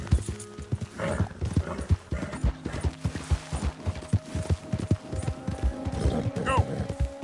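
Rhythmic hoofbeats of a horse galloping in Red Dead Redemption 2, steady clip-clop pounding close and loud, with a brief whinny near the end.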